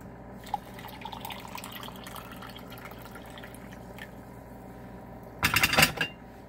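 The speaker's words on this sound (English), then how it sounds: "I like to add the water next." Water is poured into a mug of mocha coffee in a short, splashy burst of about half a second near the end. Before the pour, only a faint hum with a few scattered small ticks is heard.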